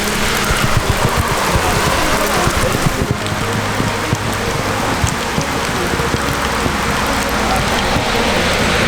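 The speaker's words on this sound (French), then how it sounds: "Ah, là, il pleut comme jamais." Heavy rain pours down steadily beneath a bridge over the Rhône, a dense, loud wash of drops drumming on nearby surfaces for the whole stretch, with a faint low rumble of traffic underneath and no talking.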